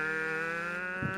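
A voice imitates a race car, a steady droning buzz held alone for a moment at close range, ending with a brief low rumble.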